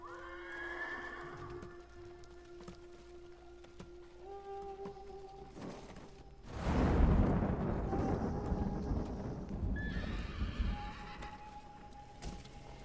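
A horse in the Ghost of Tsushima video game whinnies loudly several times while hooves clip-clop steadily beneath, set against a continuous game soundtrack with a swell of rumbling noise midway.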